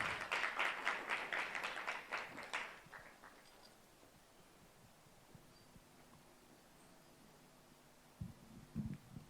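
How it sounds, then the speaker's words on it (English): An event audience at a debate claps in a burst of applause for about three seconds, then it fades into quiet room hum with faint rustling and a few soft knocks near the end. "A round of applause for her as she comes."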